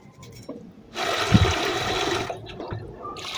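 Water running onto beef meat being washed, a rushing splash that starts abruptly after a quiet moment and flows steadily for about two seconds before easing off, close by.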